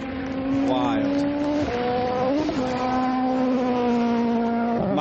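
A WRC rally car charges flat out along a dusty gravel stage at Rally Jordan in 2011, its engine holding a loud, steady howl broken by quick gear shifts and rising and falling revs.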